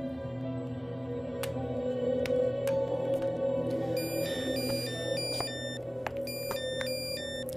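An incoming call rings on a telephone: a series of bright, electronic chiming tones repeats over a low, steady room hum and faint clicks.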